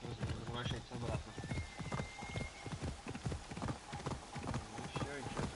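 Horse hooves clip-clop in a steady galloping rhythm inside the video game Assassin's Creed, loud and close, with someone talking over them.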